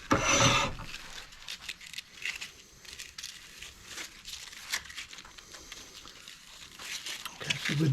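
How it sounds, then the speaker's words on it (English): Hand sanding the inside of a Huon pine wooden goblet spinning on a lathe, a steady close abrasive rasping and rubbing that swells and fades, with a louder scrape at the start. "now just get in, sand the inside of that."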